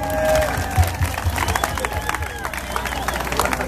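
Dance lesson participants at a Greek festival in San Juan Capistrano clap and cheer together in a brief burst of applause, with crowd chatter mixed in throughout.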